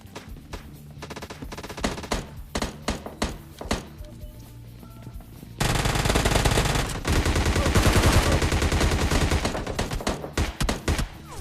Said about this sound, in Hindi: अभी आएंगे आपको गन शॉट की आवाज़